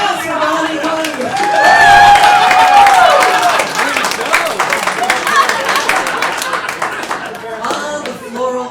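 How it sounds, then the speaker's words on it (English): A comedy club audience claps and cheers for Bonnie Collingwood, a lively burst of applause with a few whoops, swelling then thinning out toward the end, with voices mixed in. "Round of applause for Bonnie Collingwood."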